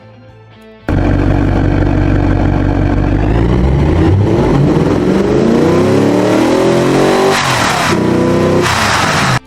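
A modern muscle car's free-flowing engine in the Automation/BeamNG game starts with a loud roar and climbs through steady, rising revs, holding near and loud with a couple of sharp throttle blips near the end.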